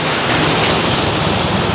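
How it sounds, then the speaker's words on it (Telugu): Vallara waterfalls in Kerala pouring beside a road in the rain, a loud, unbroken roaring rush of water that fills the whole moment. "ఇది కూడా రోడ్ సైడే ఉంది వల్లారా వాటర్ ఫాల్స్."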